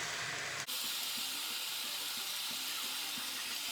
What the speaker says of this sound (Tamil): ஒரு 3 நிமிஷமா ஈரல் நல்லா வெந்துட்டு இருக்குதுங்க